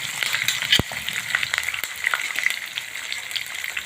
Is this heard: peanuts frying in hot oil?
yes